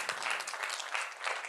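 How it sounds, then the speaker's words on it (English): Audience applause at a learning and development festival, brisk, dense clapping from many hands that holds steady and close throughout. "Could we have an applause for all those who got 13 in this?"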